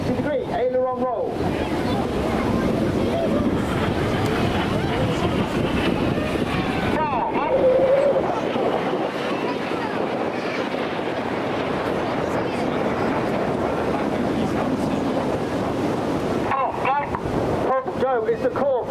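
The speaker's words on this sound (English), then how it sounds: "They'll pass each other within only 100 feet wingtip to wingtip. Each aircraft will conduct a 360-degree aileron roll." Red Arrows display jets at the Blackpool Airshow make a loud, sustained roar that swells and fades as they pass low, with wind buffeting the microphone throughout and a commentator speaking over it.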